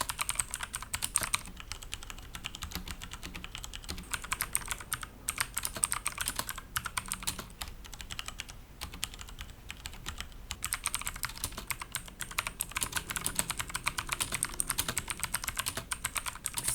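Fast steady typing on a Digital Alliance Meca Z mechanical keyboard with blue switches gives a close, continuous stream of crisp clicky keystrokes with short pauses and no voices.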